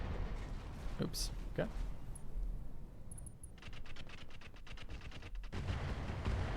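An artillery barrage in Battletech with the Roguetech mod: a few sharp blasts, then a rapid rattling run of impacts, with a voice speaking briefly over it.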